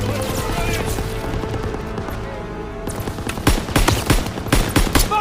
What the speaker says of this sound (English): Lay suppressive fire!